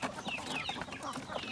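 Large-breed chickens on a free-range farm cluck steadily and close by in a continuous overlapping chorus, with no talking.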